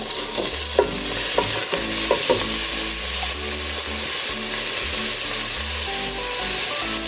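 Aromatics fry in olive oil in a pot as a wet spoon sets off spattering, a loud busy sizzle broken by repeated wooden stirring scrapes and knocks, close and continuous with no talking.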